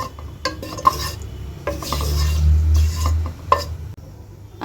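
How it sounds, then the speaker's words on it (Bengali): Cumin, bay leaf and cinnamon tempering being stirred in a pan, with close spoon-on-metal scrapes and clinks in uneven strokes over a faint sizzle and a low rumbling hum in the middle. "আমি একটু ফোড়নের জিরা, তেজপাতা, দারচিনি একটু নাড়াচাড়া করে নিব।"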